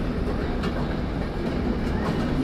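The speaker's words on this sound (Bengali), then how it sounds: "7:23 বাজে, 23 মিনিট বিলম্বে ট্রেনটি দিনাজপুরে এসেছে" A train on the Joydebpur to Dinajpur line pulls into Dinajpur railway station, a loud, steady rumble with rhythmic wheel clatter filling the whole stretch, no voices.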